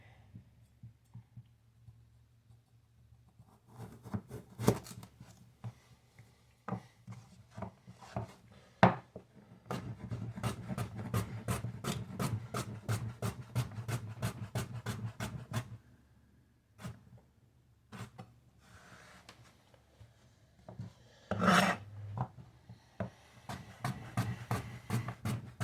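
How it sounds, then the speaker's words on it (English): Knife cutting food in half on a board while cooking pineapple chicken, a series of close, sharp wooden chopping taps in quick runs separated by pauses. "I'm going to cut it in half and then cut it more"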